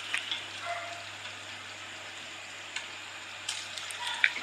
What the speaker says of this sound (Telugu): ఇంకా మిగతా పీసెస్ కూడా అలానే మనం వేసుకొని ఫ్రై చేసుకోవాలి అదే ఆయిల్లో